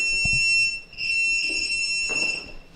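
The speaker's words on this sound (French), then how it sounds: "donc le bip d'alignement, j'allume ma cellule." A steady high-pitched electronic alignment beep from a sports timing cell sounds continuously, with a few soft clicks and rustles underneath.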